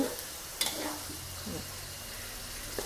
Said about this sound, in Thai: ใช้ไฟกลางๆวิธีการผัดนะผัดให้มันน่ากิน ให้หมูมันเคลือบไข่ ไข่เคลือบหมู